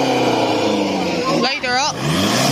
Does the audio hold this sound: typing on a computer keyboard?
no